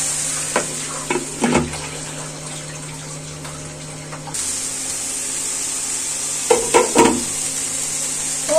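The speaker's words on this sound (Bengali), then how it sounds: "আজকে প্রথম আমি করলা শাক ভাজি করছি" Bitter gourd leaves being stir-fried in a pan, a steady soft sizzle with a few scraping stirs of the utensil, close and fairly quiet.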